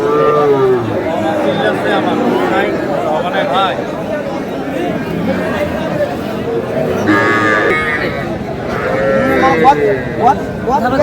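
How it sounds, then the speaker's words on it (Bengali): Young bull calves moo repeatedly at a crowded cattle market in Kurigram, their bellows rising over constant crowd chatter and bargaining voices. "ষাঁড় বাচ্চা"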